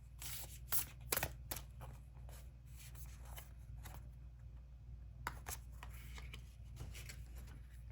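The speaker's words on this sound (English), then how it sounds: "I'm going to be choosing a card from this oracle deck." An oracle card deck is shuffled by hand, soft papery riffles and flicks close up and quiet, with sharper snaps scattered through steady rustling.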